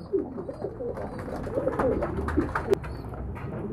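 Pigeons coo in soft, repeated throaty calls close by, mixed with light fluttering and shuffling as they gather around a bath of medicated water.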